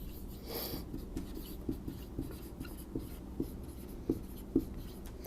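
Marker or chalk scratches and taps on a board during a lecture, giving a string of short, quiet strokes in an uneven rhythm against a faint room hum.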